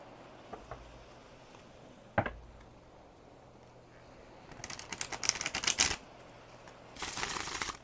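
A few soft clicks, then a brief riffling burst of cards being shuffled, and a second shorter flutter near the end, all fairly quiet.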